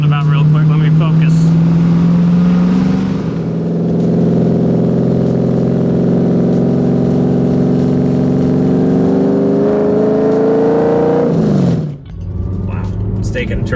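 2011 Factory 5 GTM car driving through a roundabout, a loud close engine drone rising and falling in pitch as it accelerates and eases off, with a brief dip near the end.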